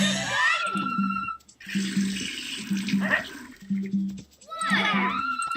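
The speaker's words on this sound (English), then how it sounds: "Yes, I know it's water." Game water sound as plants are watered in a Nick Jr. video game, a steady splashing pour repeated in bursts, with a bright rising chime between pours and a low musical tone underneath.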